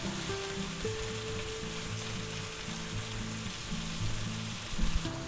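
Onions, peppers and smoked ham frying in a pan on a stovetop give a steady, close sizzle with a soft crackling texture throughout, joined by a brief stir of the pan near the end.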